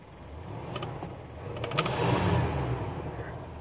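A 1982 Imperial Frank Sinatra Edition car idles as it is shifted into drive, a low steady engine hum with a few faint clicks, then a slight swell in engine sound, close and without speech.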